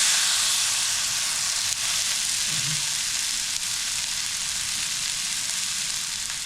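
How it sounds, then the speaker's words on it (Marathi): Thalipeeth, a wheat, rice and chickpea flour flatbread, sizzles on an oiled hot griddle with a steady, close frying hiss that carries on without break and without talking. "हे थालीपीठ याच्यावर तव्यावर आपण घातलेलं आहे ना"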